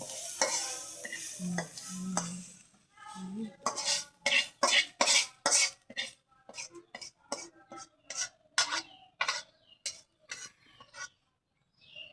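Prawns frying in a pan, a quick series of sharp scraping and stirring strokes over a soft background sizzle, close and fairly quiet, with a brief throat sound near the start.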